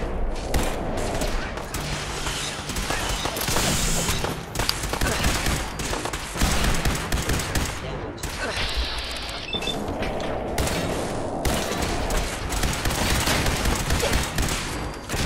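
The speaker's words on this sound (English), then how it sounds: "What's with all the shooting? Oh, we are under attack from Synth." Sustained bursts of gunfire and booming shots fill a Synth attack in Fallout 4, dense and loud throughout, with brief lulls and a voice talking at moments over the fighting.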